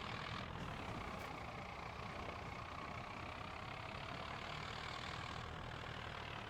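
A small tractor engine in Farming Simulator 25 drones steadily and evenly throughout, a continuous low mechanical rumble with no pauses or talking.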